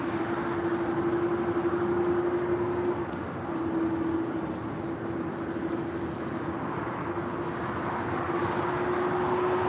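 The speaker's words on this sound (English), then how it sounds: "We do have JetBlue Airways Flight 288 heading to Boston. It's an A321 making it way down to 24 right" A JetBlue Airways Airbus A321 landing at LAX, its steady engine roar and whine carrying at moderate distance for the whole stretch, with a sustained tonal hum running through it and a slight dip in loudness partway.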